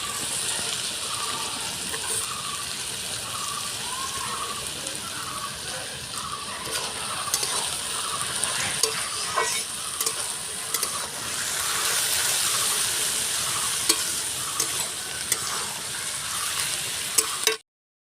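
Capsicum stir-fried in a pan for mixed rice made with leftover lunchtime rice: a steady, close sizzle with scraping stirs runs throughout, with no talking.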